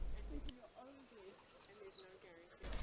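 Pigeons calling at a bird sanctuary on Tiritiri Matangi, Auckland, heard as faint, low cooing notes with a few higher chirps, soft and somewhat distant.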